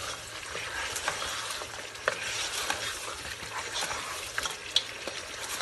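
Mutton and rice for Sindhi biryani being stirred in a pot: continuous close scraping and soft sizzling with occasional spoon knocks against the metal, no talk.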